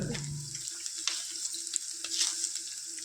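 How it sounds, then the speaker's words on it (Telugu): Potato and tomato curry sizzles and fries in a pan, a steady close crackle with small stirring scrapes, heard alone. "ఇది కొద్దిసేపు వేగిద్దాం ఫ్రెండ్స్"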